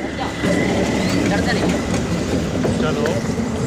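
Sachkhand Express passing close by, a loud continuous rumble and rattle of rolling rail wagons with faint rhythmic clatter throughout.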